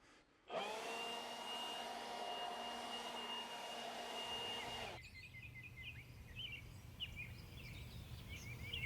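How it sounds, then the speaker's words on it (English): A leaf blower roars steadily at close range for about four seconds while blowing worm casts off a garden lawn, then cuts out, leaving quiet outdoor ambience with birds chirping. "to remove the worm cast off the lawn is actually just to take a blower and to blow them off"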